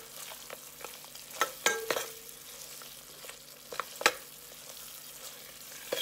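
Curry crab sautéing in a pan gives a low steady sizzle, broken by several sharp scraping and clinking strokes of a utensil against the pan, with no talk.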